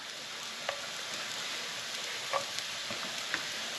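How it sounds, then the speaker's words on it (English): Large mushrooms sizzle steadily in a hot pan, a continuous close frying hiss with a few faint clicks and small pops scattered through it. "Sizzling straight away."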